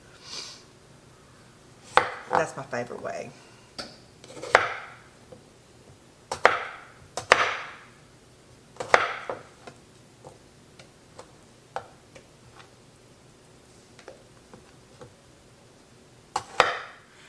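Sharp knife chops dicing green tomatoes and okra on a cutting board, irregular and spaced apart, close and clear, with a brief spoken remark among them.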